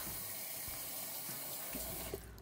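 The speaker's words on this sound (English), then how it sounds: "adding it to a bowl with salt, then adding cold water" Cold water runs from a tap into a bowl of salted pork skin, a steady close splashing rush that carries on throughout.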